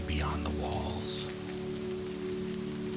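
Steady rain falls through the night on a mountainside in Oregon's forest, a soft, even patter that holds constant from start to finish, with a low hum underneath and one brief brighter drip partway through.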